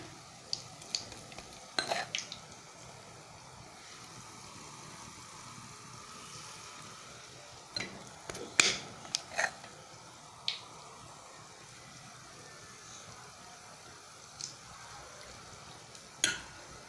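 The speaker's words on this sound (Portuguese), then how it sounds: "eu vou fritando os bolinhos, gente" Bolinhos de chuva, dough fritters, frying in hot fat give a quiet, continuous sizzle, broken by occasional sharp utensil clicks and taps against the pan.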